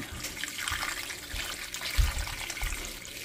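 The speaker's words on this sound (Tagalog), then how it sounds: "Tapos lagyan natin ng tubig." Water poured into a cooking pot on a high-heat stove, a steady splashing gush with a few low thuds, close and continuous without talk.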